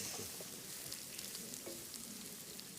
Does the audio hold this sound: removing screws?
no